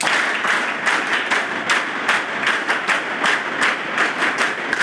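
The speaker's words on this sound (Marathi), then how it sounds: "ज्या नंदुभाऊंमुळे मी इथं आलो त्या नंदुभाऊंसाठी जोरानं टाळ्या वाजवा" Listeners at a Mission IAS event in Gadchiroli break into loud applause for Nandubhau, many hands clapping in a thick, sustained burst with audible individual claps popping out of the steady roar.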